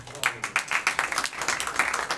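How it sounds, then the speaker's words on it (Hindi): Loud, lively applause from a church congregation, dense overlapping claps with irregular peaks rolling on steadily throughout. "इनके लिए ज़ोरदार तालियां बजाएं।"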